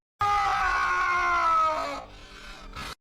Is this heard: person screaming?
yes